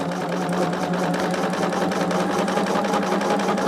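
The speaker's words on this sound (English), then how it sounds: "I think I'm just going to sew without pinning" A sewing machine runs steadily and loudly without pause, stitching quilt squares together sewn without pins, its motor hum and rapid needle chatter continuous throughout.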